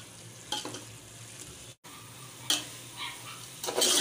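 Potato and cauliflower curry, aloo gobhi, frying in a pan, with a steady low sizzle and a few stirring scrapes of the spoon against the pan, close and fairly quiet, with no talk.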